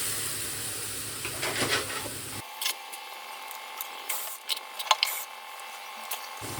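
Spice-soaked tomatoes, marinated in Kashmiri chili powder, hot chili powder and coriander powder, tip into a hot pan and hiss in a steady, soft sizzle, with brief clinks and scrapes on top.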